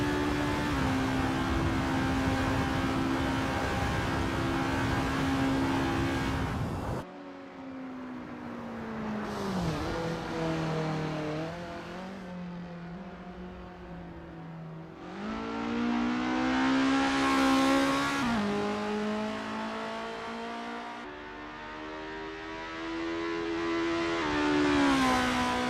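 An Estonia-25 formula race car in Assetto Corsa, on its practice out lap, revs hard through a series of gear changes. The close, loud engine whine rises, then drops at each shift, with no talk.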